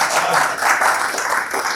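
Audience applause at a Hindi-Urdu shayari poetry recital in Baroda, a steady continuous wash of clapping with no gaps, fairly loud and alone.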